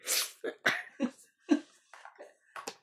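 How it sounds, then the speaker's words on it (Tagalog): A single sharp human sneeze burst at the start, followed by several short vocal bursts, heard close by during a Tongits card game. "Pabebe yung bahing peekaboo."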